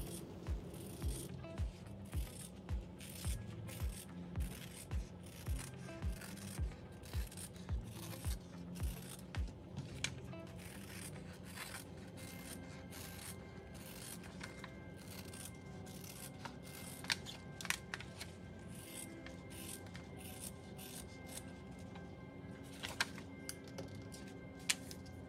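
Scissors cut through layered organza fabric secured to a petal template, making a close, steady run of crisp snips at first. The snipping turns into quieter, irregular scraping and rustling, with no talking.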